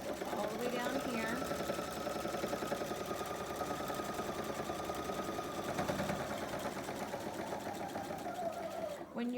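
A home sewing machine runs a steady back stitch, its rapid needle hum continuous and close for several seconds before cutting off at the end, with a voice speaking over it.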